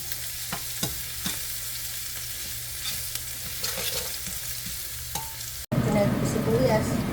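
Garlic sizzles and fries in a pan as the base for a Filipino-style chop suey, with steady close crackling and occasional utensil stirring; after a brief break, a louder, denser sizzle begins.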